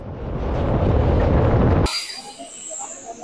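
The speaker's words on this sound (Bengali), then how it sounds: "আসানসোল আদ্রা এই যে মেমু লোকালটা" An Asansol–Adra MEMU local train rumbles past loudly and steadily for a couple of seconds before cutting abruptly to quieter ambience with faint high tones.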